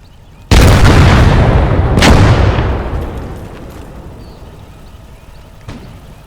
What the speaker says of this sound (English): Granate raus!